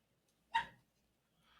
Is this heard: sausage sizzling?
no